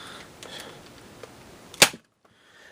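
An X-Shot Reflex toy dart blaster fitted with an 8-shot cylinder fires a dart, one sharp close snap after faint handling noise, then near silence.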